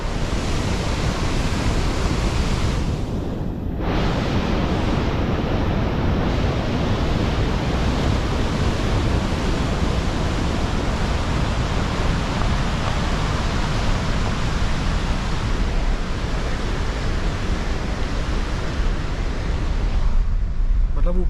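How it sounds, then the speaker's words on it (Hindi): A fast-flowing mountain stream swollen with snowmelt roars steadily beside a road in the Zanskar Valley, a loud, continuous broadband rush with no breaks, close to the listener. "पानी का फ्लो कितना ज़्यादा है यहाँ पे।"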